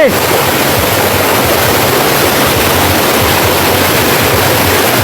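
Wang Kan Lueang waterfall in Lopburi, Thailand, roars loudly and close, a dense, continuous wash of crashing water that fills the whole stretch without pause.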